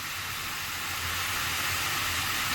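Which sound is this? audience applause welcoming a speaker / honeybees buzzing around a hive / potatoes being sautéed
potatoes being sautéed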